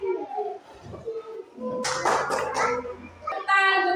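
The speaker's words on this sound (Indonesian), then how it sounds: "tepuk tangan untuk Prilly" Brief burst of children's clapping in a classroom, a short scattered patter lasting about a second and a half, surrounded by kids' voices and chatter.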